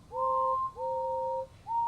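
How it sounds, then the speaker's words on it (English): Steam engine whistles toot from an animated Thomas & Friends scene, three clear two-tone blasts, the first two long and the last cut short, heard alone. "They whistled and tooted in excitement."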